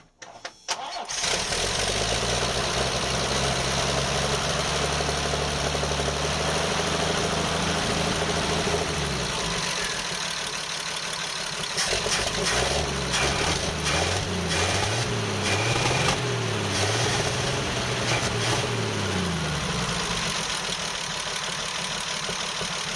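A Toro engine cranking, catching and running after a carburetor install, starting with a burst and then holding a loud, steady idle whose pitch wavers and surges midway, heard alone.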